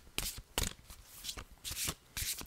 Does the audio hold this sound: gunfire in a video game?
no